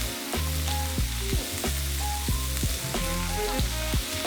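Meat frying in its own rendered fat in a hot pan without oil, a steady crackling sizzle with repeated sharp pops and spits, close and alone without speech.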